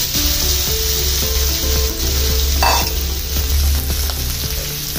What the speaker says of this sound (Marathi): आता ह्यात हा उकडलेला जो बटाटा आहे ना हा सोडतो